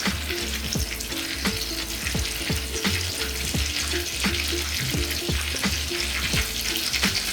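Steady sizzling and bubbling of chicken cutlets deep frying in oil, with scattered pops and crackles, close and continuous.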